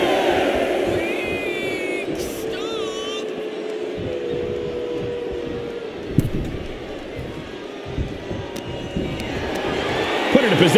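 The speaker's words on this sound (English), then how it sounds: "Theory is firing up the crowd here" Wrestling arena crowd in the WWE 2K24 video game during a SmackDown match: a steady, dense roar of spectators that fills the whole stretch, with a few brief whistle-like tones rising above it.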